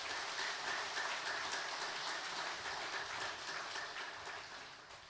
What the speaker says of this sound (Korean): 우리 참 청년부 앞으로도 더욱더 힘내라고 격려의 박수 해주시기 바랍니다.